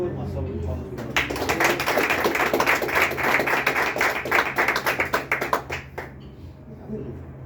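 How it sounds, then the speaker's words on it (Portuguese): Church congregation applauding together, a dense burst of hand claps lasting several seconds, fairly close and loud, with a low hum underneath before it tapers off. "Uma salva de palmas para o"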